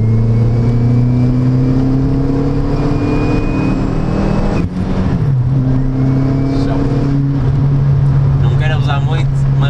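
A VW Lupo with a swapped 1.8 turbo engine pulls hard in third gear, its loud droning engine note climbing steadily. A brief dip comes near the middle as the pitch settles, then the engine pulls on strongly.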